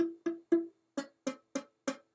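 A ukulele string is plucked while the fretting finger presses too lightly, causing it to squawk. Seven short plucks come in quick succession; the first few ring clearly and the later ones turn buzzy and rasping.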